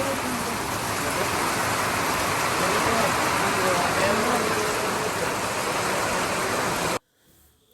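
Heavy rain at Bekal Fort in Kasaragod, a dense, loud, steady hiss of downpour lasting about seven seconds before it cuts off abruptly to near silence.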